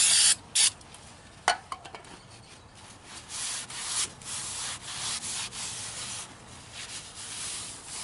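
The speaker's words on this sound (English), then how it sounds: "After getting the heavy stuff scraped off with a knife, I'm going to use a little brake cleaner." Brake cleaner hisses from an aerosol can onto a semi truck axle after scraping, sharp close spray bursts at first, then continuing rubbing and hissing wash without talk.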